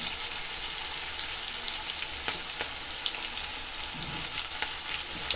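Onions and tomatoes fry in a pan for mutton liver fry, making a steady close sizzle with scattered crackling pops and occasional stirring scrapes.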